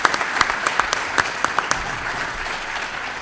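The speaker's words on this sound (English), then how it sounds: "Let's give another round of applause to our Extra Mile Award winners from Whitney this month." A room claps for the Extra Mile Award winners from Whitney at a school board of education meeting, a dense sustained round of applause with a few sharper individual claps standing out near the start before it evens out.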